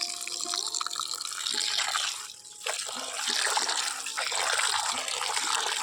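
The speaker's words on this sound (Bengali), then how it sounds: "এগুলো জামা জমেছে, সেগুলো একটু ধুয়ে নিই।" Running tap water splashes and gushes steadily as clothes are rinsed and swished by hand on a rooftop, with a brief lull before the flow resumes, close and fairly loud.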